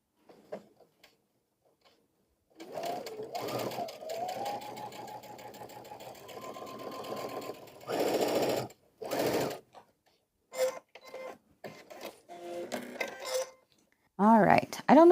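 A Baby Lock Soprano Mini sewing machine stitching with a twin needle, running in steady mechanical bursts of varying length separated by pauses, with a voice speaking briefly near the end.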